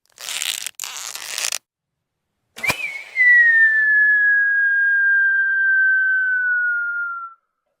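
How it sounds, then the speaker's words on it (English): A whistling arrow released from a magpie-decorated bow: a sharp snap followed by a long, clear high whistle that glides slowly downward for about four seconds, close and loud, after brief rustling noise. "He fitted a whistling arrow to a magpie-decorated bow"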